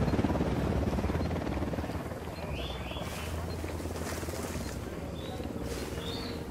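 Helicopter in the video game Ghost Recon Wildlands, a steady rotor drone holding at an even level throughout, with faint high chirps, like distant birds, layered over it.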